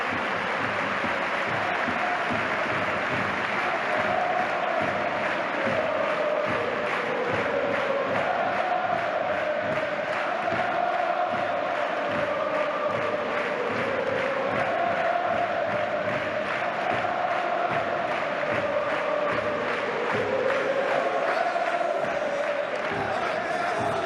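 A stadium crowd cheers Barcelona's title celebration, with a steady, loud roar of many voices and chanting that continues throughout, under a commentator's voice.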